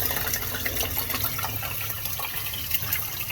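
Water gushes out inside a brand-new home, a dense continuous rushing flow at fairly close range that stays loud and steady with no voices.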